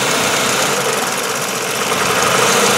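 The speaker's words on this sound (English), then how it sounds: "Engine almost stalled out completely." A Chevrolet Cavalier engine idles roughly and nearly stalls as its brake booster hose is pinched, a loud continuous mechanical rumble with a faint uneven knock.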